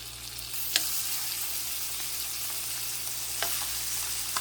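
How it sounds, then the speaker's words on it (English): Shrimp for a fettuccine Alfredo frying in a hot pan, producing a steady close hiss and sizzle with a couple of sharp clicks and scrapes, and no voices. "Now, let's get this shrimp in here."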